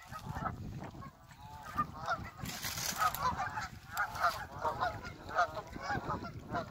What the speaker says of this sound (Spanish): Está lleno de patos todo aquello.